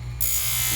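Dental handpiece spinning up with a grinding wheel while trimming a denture reline, a sudden high-pitched whine that kicks in after a brief low hum and holds steady and close.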